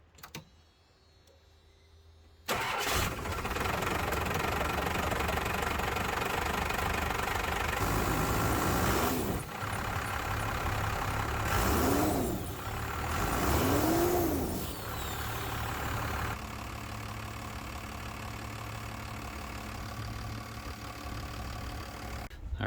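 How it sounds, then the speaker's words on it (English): A first-generation Cummins diesel pickup engine after a VE injection pump leak repair cranks and catches with a sudden loud start, then runs with a steady rough diesel clatter and a couple of revs before settling to a lower idle. "I'll go and fire up the truck and see how it goes"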